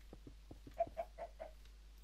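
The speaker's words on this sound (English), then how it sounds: "Go away, chicken." A chicken in the video game Minecraft gives a quick run of soft clucks followed by a few short, higher squawking notes, close and quiet, with no talk.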